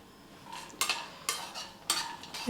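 Pumpkin and sunflower seeds, added to nuts already roasting, are stirred in a pan: several sharp scraping strokes in an irregular rhythm over a faint, low sizzle.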